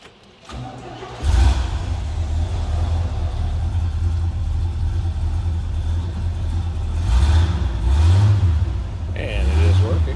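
A 1965 Pontiac Catalina convertible's engine turns over and catches, then settles into a deep steady idle with a couple of blips of revving, loud and close.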